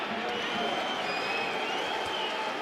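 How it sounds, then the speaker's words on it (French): A stadium crowd at the Stade Raymond Kopa in Angers applauds during a football match, a dense, continuous wash of distant clapping and crowd murmur with no breaks. "Les petits applaudissements quand même de Neymar pour le stade Raymond Kopa"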